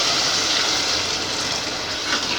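Water pours steadily into a cooking pot while a vegetable and egg curry is being made, a continuous close splashing gush with no talk.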